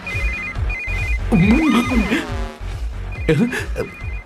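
A phone ringtone beeps in short repeated bursts, broken up by a person speaking loudly over it, then the ringing resumes.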